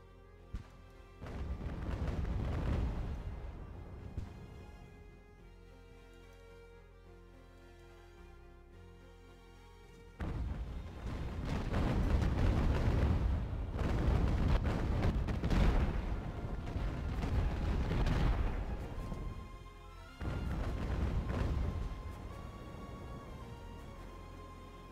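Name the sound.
mortar fire in Ultimate Admiral: Age of Sail video game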